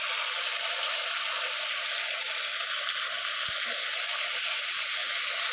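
Chopped tomatoes dropped into hot oil tempering in a pan, giving a steady, even hiss of sizzling that holds at one level throughout with no talking.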